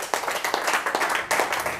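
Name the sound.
congregation clapping and cheering for Jesus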